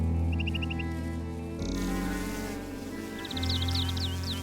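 Bees buzzing steadily at Lake Constance over a low tonal background, with a brief shift midway and faint high chirps at the start and end.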